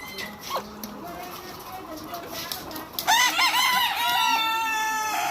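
Roosters kept for Eid sale crow loudly and close by, with harmonic calls starting partway through after softer clucking, while someone talks over the birds.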